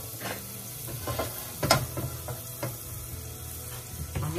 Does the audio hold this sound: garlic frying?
yes